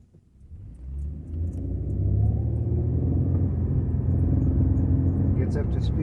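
A project car on its first test drive pulls away and builds speed, its engine rumble rising from quiet to a loud, steady drone that holds through the rest.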